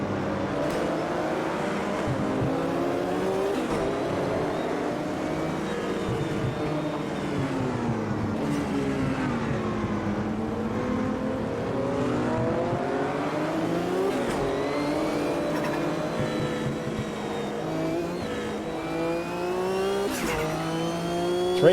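Race cars lap a track in the sim racing game Automobilista 2 during a World Sportscar Championship race amid lap traffic. A loud, steady engine drone rises and falls through gear shifts as the car accelerates and brakes, with no talking.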